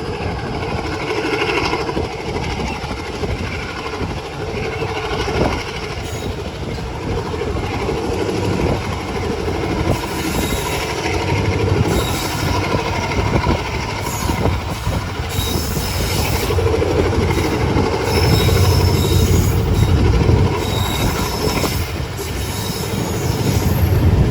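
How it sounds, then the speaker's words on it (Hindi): Awam Express train pulling away from a station stop, a steady loud rumble of wagons and rolling wheels with occasional squeals and rhythmic clatter building over the full stretch. "टिकरी पर भी ट्रेन रुक जाती है तो अब कुछ सेकंड ही रुक के वहाँ से चल पड़ी है"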